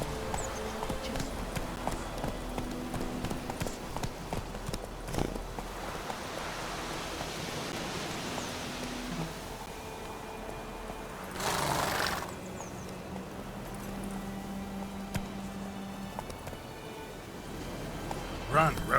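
Geralt's horse Roach galloping in The Witcher 3, a muffled rolling hoofbeat rhythm under game ambience and talking, with a brief noisy burst partway through.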